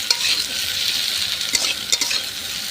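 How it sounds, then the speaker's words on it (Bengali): Vegetables for a curry, beans, carrot, beet, potato and papaya, fry in a pan with a steady close sizzle and scraping stirs of a spatula throughout, no talking. "তো আমি এটাকে একটু ভালো করে ভাজা ভাজা করে নেব।"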